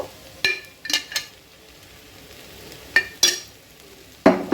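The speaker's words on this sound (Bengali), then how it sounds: "আরও কিছুক্ষণ আমি একটু ভাজা ভাজা করে নেব।" Flattened rice pulao frying in a pan: a soft sizzle underneath a handful of sharp spatula scrapes and taps, spaced irregularly and heard up close.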